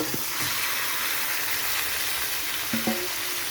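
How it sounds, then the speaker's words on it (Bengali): Mutton pieces dropped into a pan of already fried onions and oil, a steady loud sizzle with a few brief stirring clinks at the start and near the end, no talking. "মাটনটা দিয়ে দিচ্ছি।"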